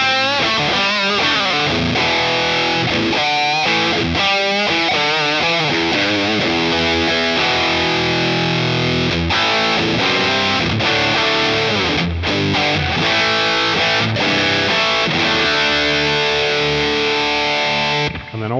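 An electric guitar plays through a Danelectro Cool Cat distortion pedal, loud and close with thick, overdriven chords and single notes sustaining continuously for the whole stretch before a brief cutoff at the end.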